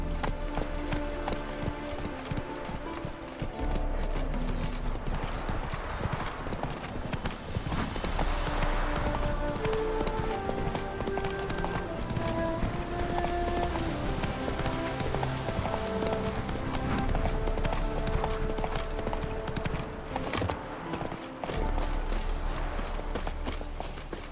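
Roach, the horse in The Witcher 3, gallops with a steady clip-clop of hooves, mixed in with continuous game music and ambience that runs almost the whole time.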